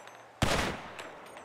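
Burst of video game gunfire, a sharp loud onset followed by a dense rattling volley that decays over about a second, with a fainter shot trailing after.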